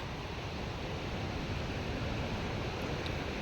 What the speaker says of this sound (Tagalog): Yung ulan guys oh. Yung galing sa bundok.